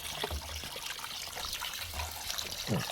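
Water runs steadily from a kitchen tap while raw chicken is washed, a soft continuous trickle and splash, faint and close, with no talking.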